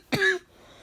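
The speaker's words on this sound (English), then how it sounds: "I just have a really terrible cough." A single harsh, close cough from a person suffering a really terrible cough, short and loud, followed by quiet.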